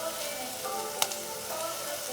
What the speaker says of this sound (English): I'm just flipping it around, making sure it's fully coated as they sizzle.